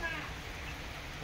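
Steady rain falls during the rainy season, a dense even hiss close by that holds through the whole short stretch with no clear gaps.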